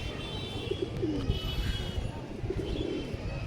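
Caged pigeons offered for sale coo softly in short, repeated phrases over a steady background hum of a busy place.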